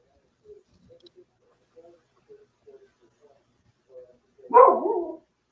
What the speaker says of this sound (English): Oh, whose dog is that?